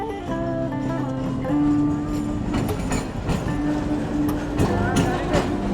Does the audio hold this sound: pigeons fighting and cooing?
no